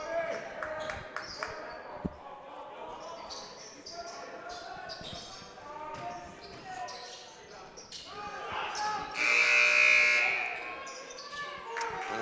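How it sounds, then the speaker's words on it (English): A shot clock buzzer sounds during a Section V high school boys basketball game, Letchworth at Le Roy: a loud, steady tone lasting about a second in the gym, heard over crowd noise and play-by-play commentary. "And Peno beat the shot clock buzzer"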